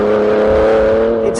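A BMW M4 GTS engine revs hard with a sustained, loud, steady tone, bright and close, holding near-constant pitch throughout.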